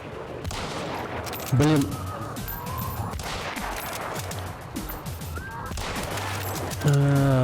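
Gunfire in the video game Hunt: Showdown, including a Martini-Henry rifle with an extended magazine, with repeated shots and sharp bursts amid loud game noise while someone talks briefly.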